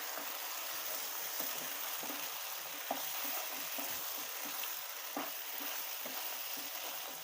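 Paneer gravy with fresh cream mixed in, stirred in a pan: a steady soft sizzle with repeated scraping strokes of the spoon at an even rhythm, close and without talk.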